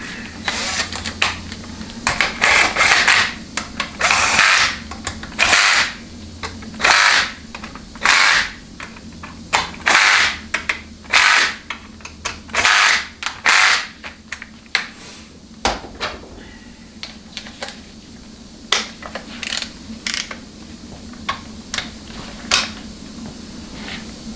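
A ratchet with a 7/16 socket runs down the valve body bolts on a Chrysler A904 (A998) transmission, giving bursts of rapid metallic clicking, loud and close, separated by short pauses, then sparser single clicks toward the end.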